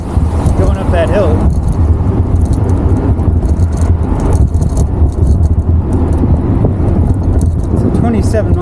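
ZOOZ Ultra Flex 1200 electric bike climbing a steep hill on throttle alone at about 27 mph, with steady loud wind roar and low drivetrain rumble throughout, a voice talking briefly over it.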